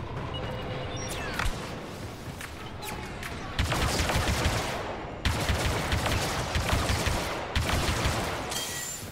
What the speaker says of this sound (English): Dude, this gun's nuts.